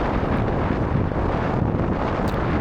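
Strong headwind roaring into the microphone while cycling along a track during a cross duathlon, a loud continuous buffeting rumble that fills the whole moment with no voices.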